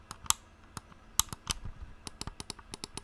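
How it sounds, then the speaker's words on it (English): Sharp plastic button clicks from a TourBox editing controller, close and crisp, tapping out in an irregular run that speeds up toward the end, with no voices. "all of the buttons have this click sound"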